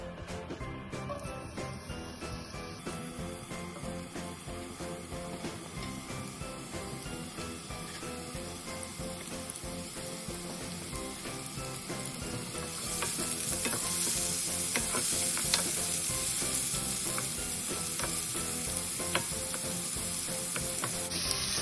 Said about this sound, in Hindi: ये 2 टेबल स्पून ऑयल में लिया, इसके अंदर हम इसको फ्राई करेंगे।